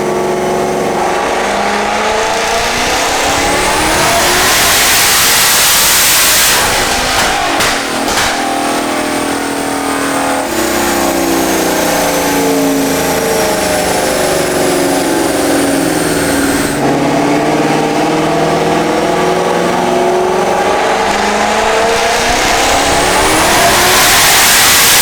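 A Ford Coyote V8 with a Plazmaman intake manifold is revved hard on a test run, roaring up through several rising sweeps with brief drops between pulls, loud and close.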